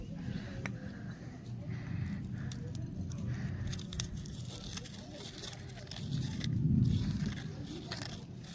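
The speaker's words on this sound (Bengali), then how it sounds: "এবার আমরা লঙ্কাটাকে ঝুড়ো ঝুড়ো করে নেব।" Roasted chilies are crumbled by hand at close range, a faint crackling and crunching over a low background rumble.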